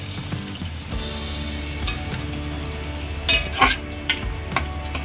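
A utensil stirs a paste of poppy seeds and cashews into a mixture of jackfruit seeds and shredded coconut for a prawn dish cooking over a medium gas flame. Scraping and clinking against the pan come close, with a few sharper knocks near the end.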